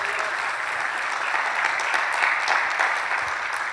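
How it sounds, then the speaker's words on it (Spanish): Worshippers at an evangelical church service clap loudly and steadily, a full dense burst of applause that swells slightly midway, with no one speaking over it. "Dale un fuerte aplauso a nuestro Salvador"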